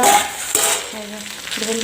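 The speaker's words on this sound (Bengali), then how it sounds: "ফার্স্টে ভেন্ডিটাকে ভেজে নেবো তেল দিয়ে" Okra frying in oil in a home kitchen, with a soft steady sizzle and brief stirring scrapes near the pan.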